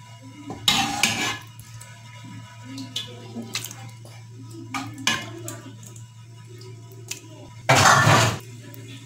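Boiled wheat, lentils and rice being stirred into beef in a cooking pot: soft, wet squishing and scraping with a few louder clinks of a spoon against the pot, over a steady low hum.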